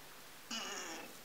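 A single drawn-out cat meow, clear and fairly close, lasting about half a second with no other sounds around it.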